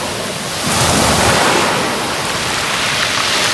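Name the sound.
waves crashing on the shore at Lingayen Baywalk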